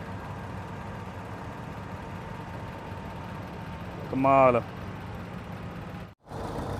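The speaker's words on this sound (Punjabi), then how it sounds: "ਪੁਰਾਣੇ ਤੋਂ ਪੁਰਾਣੇ ਟਰੈਕਟਰ ਮੈਸੀ ਹੈਰਿਸ ਆ ਕੌਕ ਸ਼ਾਟ ਕੈਨੇਡਾ ਦਾ ਆ" An old Canadian Massey Harris tractor engine idles with a steady low rumble. A voice briefly exclaims partway through, and the sound cuts out momentarily near the end.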